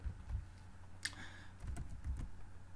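Keys tapping on a computer keyboard while text is entered, a few quick bursts of clicks with short pauses between them, close and fairly quiet over a low steady hum.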